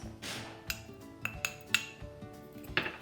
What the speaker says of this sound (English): So I'm going to put soil into all the pots